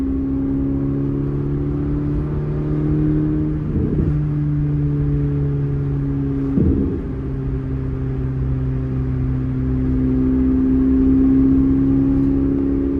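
A car engine pulls hard under turbo boost, a steady droning hum rising in pitch, with two brief shifts in tone partway through as it keeps accelerating, heard up close from inside the car.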